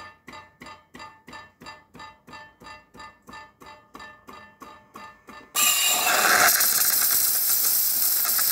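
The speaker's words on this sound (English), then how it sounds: "and now we're gonna do some steam." A Saeco Incanto espresso machine first pulses with a rapid, even rhythmic pumping, then bursts into a loud, steady, broadband steam hiss that holds for several seconds.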